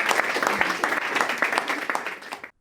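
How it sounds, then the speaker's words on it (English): An audience breaks into steady, dense applause at a live science talk show, many hands clapping together at close range before the sound cuts off abruptly. "Round of applause for Hannah Rowland."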